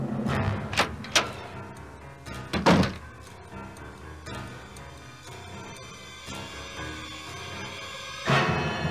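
A locked door in the Nancy Drew point-and-click game gives a few dull wooden thunks and rattles as it is tried, in short clusters near the start and another near the end, against a quiet game ambience with no talking.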